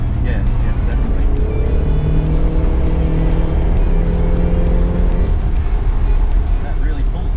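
A 1966 Chevrolet Corvette Sting Ray with a 327 engine pulls hard under acceleration, a loud steady engine drone with rising tones heard from inside the car, with people talking over it.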